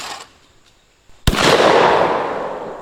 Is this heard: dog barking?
no